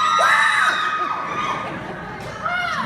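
A crowd of voices lets out long, rising and falling screeching wails, people imitating a mountain lion's scream, loud and close with overlapping cries.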